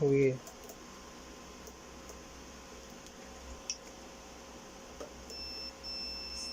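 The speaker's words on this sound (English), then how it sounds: "so here we have a beep sound" Continuity-tester beep on the power cord of a Lutos LT250MXT 2-in-1 MIG welding inverter: one brief, fairly clear tone at the very start, followed by a quiet room with faint hum and small clicks.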